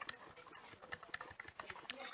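Fingers tap on a computer keyboard in a quick, uneven run of small clicks, moderately close and fairly faint, over low background noise with no clear talk.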